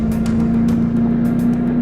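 Speedboat powered by twin General Motors 8100 engines running at speed near 74 mph, a loud, steady engine drone with a constant tone and rushing wind and water noise over it.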